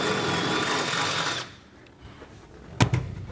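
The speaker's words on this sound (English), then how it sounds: "we'll just take our drill bit and we'll kind of just hit it at a little bit of an angle" A high whirring power drill widens a hole in the bed of a 2012 GMC Sierra truck, running steadily for over a second, then stops, followed by a quiet pause and a couple of clunky knocks.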